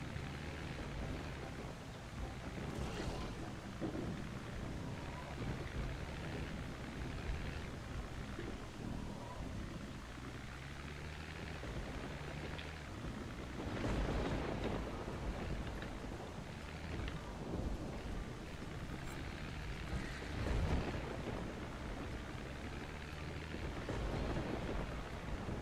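Steady rain and rolling thunder from a storm in the Project Zomboid video game, a dense continuous wash of rainfall with low rumbles swelling at times, loud and close throughout with no voices.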